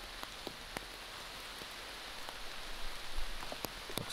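Rain falls softly and steadily on an outdoor disc golf course during a tournament round, a faint even hiss broken by scattered close drops ticking and tapping.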